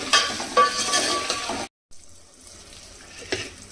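Cucumber pieces frying in oil while being stirred in a pan: bursts of sizzle and scraping for about a second and a half, a brief cut to silence, then quieter sizzling with one more stir.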